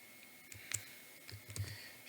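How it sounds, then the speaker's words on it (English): Someone types a password on a computer keyboard in a handful of quiet, close keystrokes, irregular clicks spread across a couple of seconds over a faint hum. "typing in the password now."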